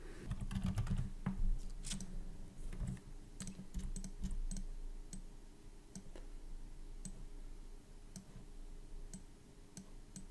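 A computer keyboard clicks under quick bursts of typing, close and fairly quiet, with uneven pauses between runs of keystrokes and no talking.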